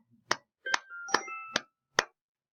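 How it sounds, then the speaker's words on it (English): A cell phone rings in the background during a rhythm lesson, a short melodic electronic tone running between five sharp, evenly spaced claps. "You heard my cell phone in the background."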